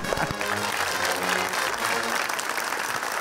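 A studio audience breaks into dense, steady applause for a correct answer on a quiz game show, full and continuous for a few seconds.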